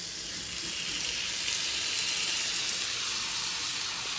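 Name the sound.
plums sizzling in pan with margarine and sugar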